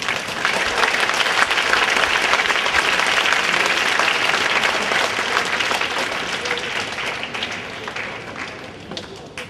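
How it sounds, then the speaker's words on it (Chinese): Sustained, full-room applause from an audience after a choir's two English songs, a dense, even roar of clapping that tapers slightly toward the end. "掌声欢迎这两首英文歌曲。"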